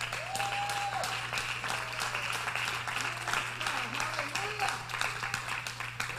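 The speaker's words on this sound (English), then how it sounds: "Oh, clap your hands." A church congregation claps along steadily in a fast, even rhythm, filling the room at moderate volume while a preacher's voice and shouts rise over the clapping.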